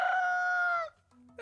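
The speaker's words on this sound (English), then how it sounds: "That rooster jump scared me a bit." A rooster crows once, loud and close, a sharp sustained cock-a-doodle-doo lasting under a second as a jump scare in the Trollge video game, followed by a short quiet.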